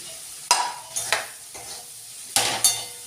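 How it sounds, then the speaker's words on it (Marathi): Abai bean pods tipped into a pan of softened cooked tomatoes and stirred, giving several clattering scrapes of a spoon against the pan over a low sizzle, close and moderately loud. "आता मी आबईच्या शेंगा टाकते"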